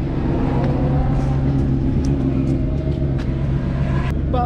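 Motorcycle engines at a track day rumble nearby with a steady low drone and some revving, a loud continuous mechanical noise throughout.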